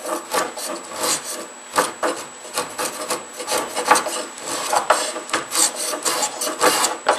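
Spokeshave shaving sapwood off an Osage orange bow stave, a steady run of rasping, scraping strokes in quick rhythm, close and fairly loud with no talk.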